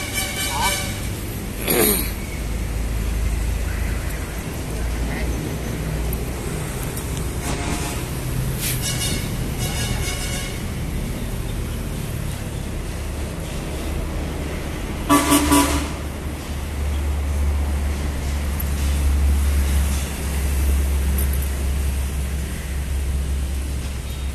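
Rare old tractors at a farm machinery dealer are started, and a tractor engine rumbles low and steadily throughout, with a couple of sharp horn-like toots and loud talking over it.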